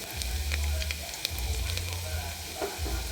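Garlic hitting hot oil in a tempering pan, a loud close sizzle that flares up and crackles steadily, with soft clinks of stirring and no speech.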